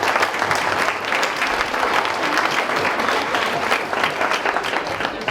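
A banquet audience at a high school fall sports banquet gives a sustained round of applause, dense, steady clapping filling the room for the whole stretch with no break.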